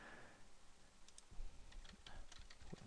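Typing an email address on a computer keyboard, a quick run of light key clicks near the mic, somewhat irregular and soft against faint background hiss.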